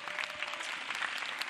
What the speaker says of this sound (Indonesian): Tepuk tangan dong untuk Ali Akbar.